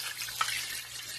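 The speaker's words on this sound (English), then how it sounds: "So next I'm going to put some water in." Water runs into a pot holding chicken bones for bone broth, a steady broad pour with a brief splashy peak near the middle, fairly faint and without talk.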